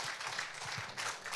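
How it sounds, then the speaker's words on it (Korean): A church congregation at a Wednesday prayer service applauding to welcome the pastor, a dense, steady wash of many hands clapping together without pause. "우리 귀한 목사님 통해서 오늘 우리 주님께서 어떤 말씀 주실지 박수로 모시도록 하겠습니다."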